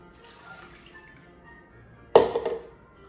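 Water pours from a container into a pot of beef for birria, a short splashing burst after a quiet stretch, close and moderately loud, lasting about a second.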